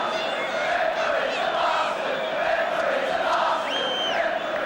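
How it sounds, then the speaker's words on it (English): A large football crowd at Stamford Bridge roars in sustained displeasure after a disallowed goal, a dense wall of shouting and jeering with a few whistles cutting through, continuous and loud throughout. "The crowd not happy with that."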